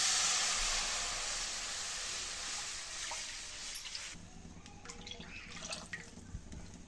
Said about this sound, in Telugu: ఇదే ప్యాన్లోనే వన్ లీటర్ మిల్క్ వేసుకుంటా ఉన్నానండి